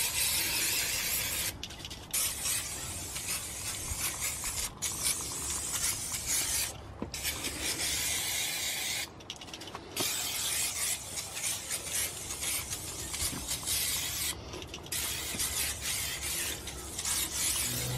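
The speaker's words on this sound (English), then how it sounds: "give this whole area a good clean up with some brake cleaner, and then obviously grease the hubs" A BMW 1 Series brake hub is scrubbed clean with sprayed brake cleaner: steady close rasping and rubbing strokes with bursts of hissing spray, broken by short pauses, with no talk.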